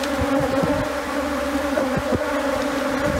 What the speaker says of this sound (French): on est en train de récupérer le maximum d'abeilles qu'on peut pour les mettre à l'entrée de la ruche pour leur montrer le chemin